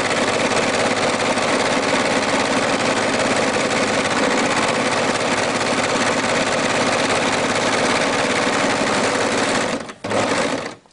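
Sewing machine stitching viscose fabric for a skirt, a steady, continuous close whirring hum that runs unbroken for about ten seconds before stopping abruptly near the end.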